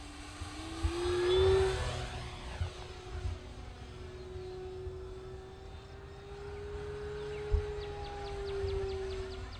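An FMS P-40B radio-controlled model warplane with a 1.4 m wingspan flies overhead, its faint, steady motor whine sliding gently in pitch as it passes, with light wind noise and no voices.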